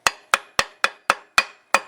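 A hammer strikes a wood block held against an aluminum water pump on a Honda/Acura J-series V6, seven sharp, evenly spaced taps with short ringing decays, close and alone.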